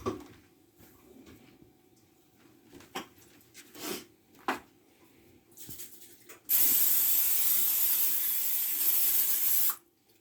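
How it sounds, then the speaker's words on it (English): A few soft clinks and handling noises, then a steady, loud hiss of cooking spray coating a pan for about three seconds, cut off abruptly. "I'm going to spray the bottom of my pan with Pam"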